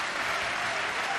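Sustained applause from a snooker match audience, dense and steady throughout with no gaps, loud and close, with no voices rising above it.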